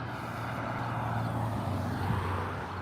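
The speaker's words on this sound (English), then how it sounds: "Here's a car right now." A car passes on a bridge, a faint low engine hum and tyre rumble that swells gently and fades over a few seconds, heard alone without talk.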